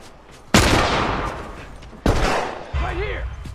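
Gunshots in The Last of Us gameplay: two loud, sharp blasts about a second and a half apart, each with a long, rumbling decay, and a voice starting to talk after the second.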